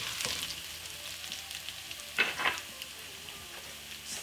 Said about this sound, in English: Red pepper flakes. This is optional, but you want a slight kick in your dish. So just sweat this.